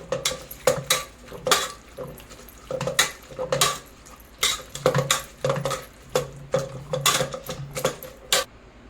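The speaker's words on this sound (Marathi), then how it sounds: "आता आपण या मॅशरने अशा मॅश करून घेऊया" Repeated soft squelching thuds and scrapes from a masher pressing cooked pav bhaji vegetables in a pressure cooker, in a steady uneven rhythm, close up with no talking.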